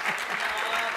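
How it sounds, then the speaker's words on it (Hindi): Brief burst of loud audience applause at a Hindi comedy poetry gathering, dense and continuous clapping from a nearby crowd. "आप लोगों को तालियां बजानी ही होगी"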